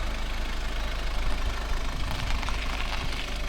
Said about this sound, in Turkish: Motor sesini de duyuyorsunuzdur. Arabamız gördüğünüz gibi dizel arkadaşlar.